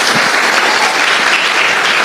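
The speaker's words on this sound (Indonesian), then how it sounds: "Berikan tepuk tangan kita untuk Tuhan kita." A church congregation claps for God at the close of a sermon, a dense, steady wash of applause filling the space from start to finish with no voices breaking through.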